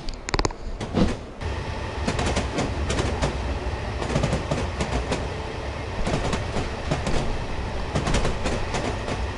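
Steam train running on the Somerset and Dorset Joint Railway toward Evercreech Junction in Train Simulator, heard as a steady, loud rolling rumble with rhythmic clickety-clack of wheels over rail joints throughout.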